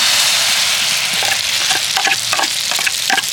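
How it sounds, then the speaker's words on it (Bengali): An egg and potato mixture poured onto a hot griddle with white oil, frying with a loud, broad sizzle and crackle that swells into bursts of spattering, close up and without talk. "তেলটা এবার আমি ডিম আর আলুর সেই মিশ্রণটা তাওয়ার মধ্যে দিয়ে দেব।"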